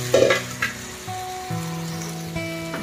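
Chicken pieces dropped into hot oil with spices, a bright sizzle bursting at the start then settling into a quieter steady fry with faint tonal hums behind.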